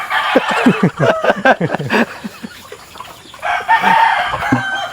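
Chickens on a muddy backyard farm in the province cluck and crow nearby, a rooster's call mixing with busy overlapping clucking in loud, uneven bursts.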